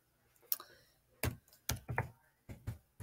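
Sparse, crisp keystrokes on a computer keyboard, a few single taps and short pairs of clicks spaced unevenly, close and fairly clear over a quiet background, as a prompt is typed into Midjourney.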